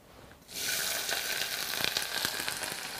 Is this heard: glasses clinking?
no